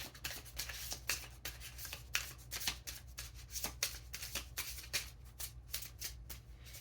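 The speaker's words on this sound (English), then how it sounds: "This deck is so slippery, it won't let me shuffle it the way I want to" A slippery deck of tarot cards is shuffled close up in quick, uneven riffling bursts that repeat for several seconds, with soft rubbing between them and no talk.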